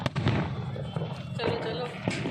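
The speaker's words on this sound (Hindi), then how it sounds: "हर जगह पे ये देखिए पटाखे फूट रहे हैं" Diwali firecrackers bursting outdoors at night, sharp scattered pops near and far over a busy background, with a voice speaking alongside.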